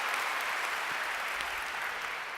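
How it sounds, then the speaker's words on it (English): A studio audience at a science comedy show applauds steadily, a dense even wash of clapping at moderate level with no break. "big round of applause for the God particle"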